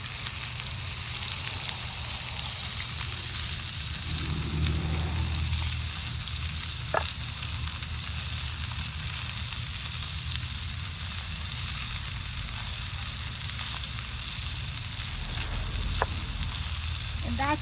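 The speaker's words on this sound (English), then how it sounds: "While my pork is cooking" Pork tenderloin sizzles and fries steadily on an outdoor cooker, a constant crackling hiss with a low burner rumble and a couple of faint clinks.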